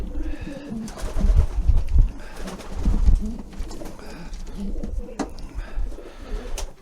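Almond pigeons at an allotment loft, including an almond hen, coo in soft repeated low throaty calls, close and steady with no talk over them.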